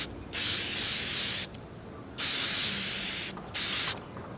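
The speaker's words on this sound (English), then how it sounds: "So I'm just going ahead and do a quick spray over." Krylon gloss acrylic spray paint hisses from the can in three bursts, two long and one short, close and steady, coating a cosplay Imperial buckle.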